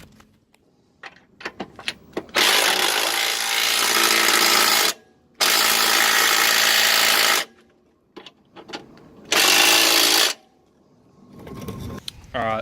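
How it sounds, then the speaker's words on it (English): A power drill drives bolts in while an anti-lift kit is fitted to a Subaru WRX GC8, giving three loud, steady whirring bursts of a couple of seconds each, separated by clicks and handling noises. "I'm just going to go grab my drill, because it's going to be a lot easier"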